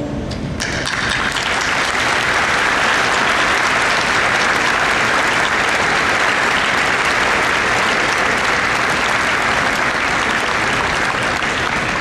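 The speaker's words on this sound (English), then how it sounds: "Would the vets here today please stand for a round of applause?" Loud, sustained applause from a large crowd at a school Veterans Day program, a dense wall of clapping that fills the whole stretch without pause.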